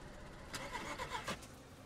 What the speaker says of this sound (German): Warum ist denn jetzt mein Motor kaputt?